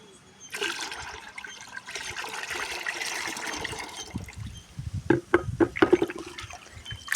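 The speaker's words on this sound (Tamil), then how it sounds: "இப்போ இதோட ஒரு ஃபைவ் லிட்டர் பக்கம் தண்ணியை ஆட் பண்ணி அதை வந்து நம்ம பிளான்ட்டுக்கெல்லாம் கொடுக்க போகிறோம்" Water, about five litres, poured out onto potted plants, a steady rushing splash for several seconds that ends in a few short separate gurgling pours.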